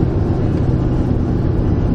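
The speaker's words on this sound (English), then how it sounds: "here comes a bunch more cars." Several cars pass on a highway near a construction zone: a steady, loud low roar of engines and tires blending into one continuous rumble.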